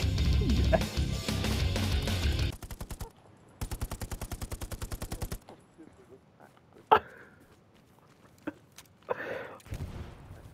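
Sustained automatic gunfire sprays in a video game, two long rattling bursts of rapid evenly spaced shots, loud and close, followed by quieter scattered pops and a voice talking.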